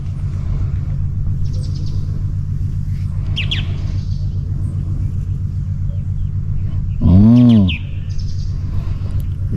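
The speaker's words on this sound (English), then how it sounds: "just listening to the birds" Birdsong drifts in outdoors at sunrise on a fine morning: a few faint chirps and short calls over a steady low rumble, with one louder, nearer call rising near the end.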